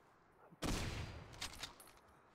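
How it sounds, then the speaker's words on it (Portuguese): A sudden burst of gunfire in the video game Hidden and Dangerous 2, rapid shots crackling loudly after a sharp onset, then tapering off with a few scattered bangs. "Vou só dar uns tiros pra atrair os inimigos."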